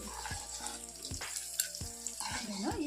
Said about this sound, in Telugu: క్యాబేజీని ఫ్రై చేసుకుంటున్నాను